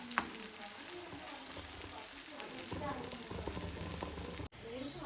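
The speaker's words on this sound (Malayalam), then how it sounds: "മീൻ വറുക്കുന്നു" Sardines sizzling and spitting in a hot pan, a continuous crackle with some stirring clatter and faint voices in the background.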